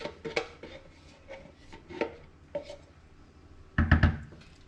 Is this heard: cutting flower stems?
no